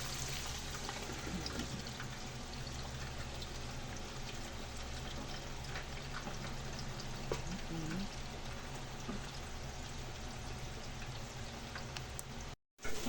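Pork frying under a lid, a constant close hiss and crackle of spattering fat that stays steady for the whole stretch, ending with a brief cut and a clunk.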